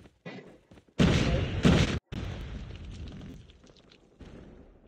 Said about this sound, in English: Somebody just threw a bomb at me. Somebody's bombing at me. Somebody's shooting at me.